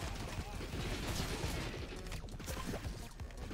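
A minigun in Alien Hominid Invasion fires nonstop, a quiet, dense stream of rapid gunshots with rattling impacts running unbroken throughout, mixed with other game effects.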